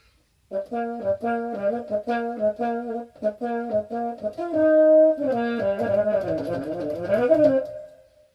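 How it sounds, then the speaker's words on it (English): A muted trombone plays a series of short, detached notes, then longer sustained tones, with a soft, nasal, slightly buzzy tone throughout. "That was the cup mute."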